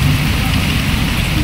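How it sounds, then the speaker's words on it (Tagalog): Steady rain pours onto a hut roof, a dense, loud, unbroken hiss with heavy low drumming throughout. "Mukhang matagal tong ulan na to."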